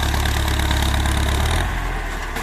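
A Ford 7740 tractor engine rumbles loudly at a steady idle, its low, throbbing exhaust close by and continuous.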